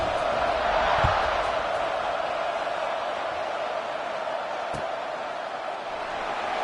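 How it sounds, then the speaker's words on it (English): A stadium crowd at a college football game between Oklahoma and LSU buzzes after a score, a dense, steady roar of distant voices with a couple of brief sharp thumps cutting through. "this crowd is buzzing after that last score"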